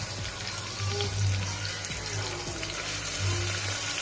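Chopped onions fry in oil in a pan with cinnamon, fennel and cloves for Chennai roadside vada curry, a steady close sizzle with watery crackle and low hum running throughout, no talking.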